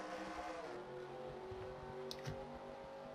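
NASCAR Camping World Truck Series trucks race at Daytona, a dense pack of engines droning with layered tonal whine and rising revs, fairly distant and continuous, with brief sharper bursts near the end.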